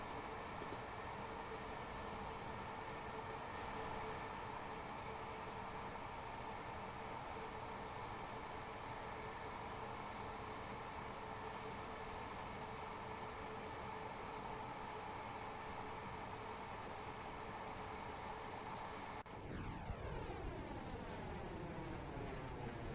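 Train noise in a video game, with a steady broadband rumble and hiss carrying a sweeping flanger effect, runs continuously for a long stretch before shifting tone near the end as the processed whoosh takes over.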